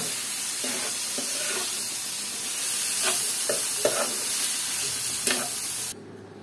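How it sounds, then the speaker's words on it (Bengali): Pumpkin peels tossed in a hot frying pan, a continuous sizzling hiss broken by a few scraping stirs, close and steady until it cuts off near the end. "এগুলো সব একসাথে দিয়ে খুব ভালোভাবে নাড়াচাড়া করে"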